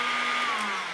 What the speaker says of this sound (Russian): Сейчас, если я здесь замкну цепь, у меня подключается фен корректно